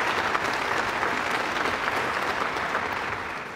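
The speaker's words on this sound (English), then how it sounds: "Please give him another round of applause." An audience at an Outstanding Educators award ceremony applauds, with a dense, steady burst of clapping that tapers slightly over a few seconds.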